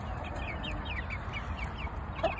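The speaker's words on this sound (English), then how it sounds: "the white rooster right there and the black rooster" Chickens in a backyard flock of hens and roosters cluck softly and repeatedly against a steady, noisy background, with no voices.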